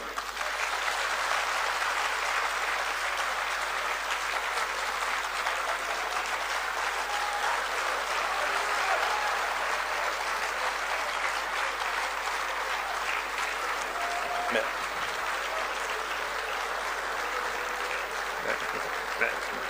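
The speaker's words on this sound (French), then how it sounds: "je demande au Conseil politique de vous acclamer" A political council gives a long, sustained round of applause for the President, dense clapping from a large crowd filling the room steadily throughout, with voices faintly mixed in.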